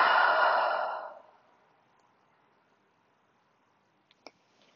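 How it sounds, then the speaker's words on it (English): A deep, slow exhale during a guided meditation, close and fairly loud, fading out over about a second into quiet, with a couple of faint clicks near the end. "And exhale."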